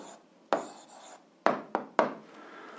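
A pen scratches out the answer to an algebra exercise in four short, distinct strokes close to the microphone, with quiet pauses between them and no talking.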